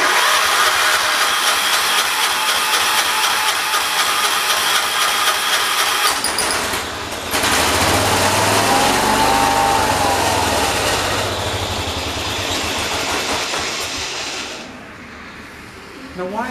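A John Deere 212 garden tractor engine runs at full throttle, a loud, steady high-pitched drone that dips briefly, carries on, then fades toward the end, with a voice speaking over it.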